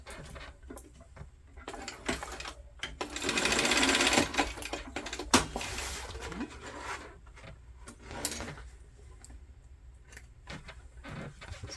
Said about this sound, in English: Sew that down.